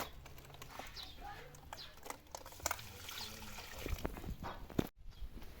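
Water poured around the roots of garden hydrangeas as feeding, a faint close trickle and splash with scattered small knocks and drips against quiet outdoor background.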